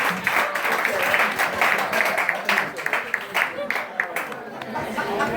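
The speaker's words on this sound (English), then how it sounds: "Keep clapping, you got that." A live crowd at a juke joint show claps for a departing performer, dense irregular clapping mixed with chatter and a few chuckles, moderately loud and continuous.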